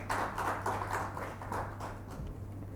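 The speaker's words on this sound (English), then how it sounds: "Please welcome him with a round of applause" A conference audience at a railway technology forum gives a round of applause, a steady, moderately loud wash of clapping over a faint background hum.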